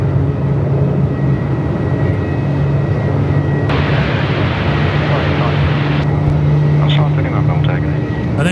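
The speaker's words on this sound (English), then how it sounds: "we can hear the spool up at the Jetstar 321 Neo just in front of me here as well" Jetstar Airbus A321neo jet engines spooling up for takeoff at Melbourne Airport in strong wind, a loud, continuous rising roar and whine close by, with a person talking over it.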